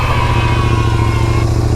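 A Royal Enfield motorcycle with worn chain and sprocket idles after starting, its single-cylinder engine thumping in a steady, loud, close rhythm with a light mechanical clatter.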